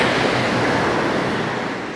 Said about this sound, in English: the waves are pretty rough, so I will not be getting in that